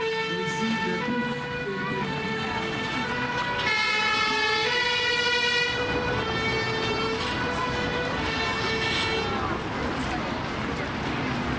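A fire department ladder truck arrives at a fire brigade open-day demonstration with its siren wailing loudly and continuously, engine rumbling beneath, while people talk nearby.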